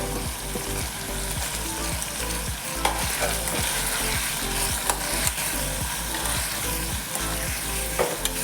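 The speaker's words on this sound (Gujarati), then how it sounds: "બરાબર સારી રીતે એને હલાવીને મિક્સ કરી દઈશું" Masala stirred into spiny gourd curry frying in a pan gives a steady sizzle, with regular scraping strokes of the spoon running throughout, close and unbroken by speech.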